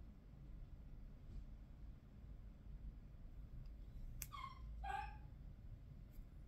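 Dogs bark twice in quick succession at an in-laws' home with animals, the barks moderately distant over a steady low background rumble.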